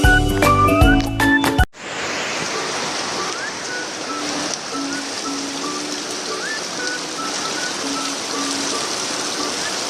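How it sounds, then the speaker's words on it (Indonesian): Heavy rain pours steadily after strong wind, a dense, even hiss of water falling on surfaces that holds on without a break after a short loud burst of other sound at the start. "Hujan deras sekali"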